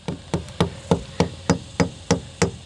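Plugs are tapped into holes drilled in a pot, producing nine evenly spaced, sharp knocks about a third of a second apart, each close and clear with a short ringing tail.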